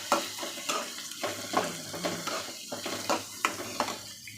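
Onion and grated coconut sautéing in a pan, with a soft steady sizzle under repeated scraping strokes of a spoon stirring the mixture, close and clear, no voices.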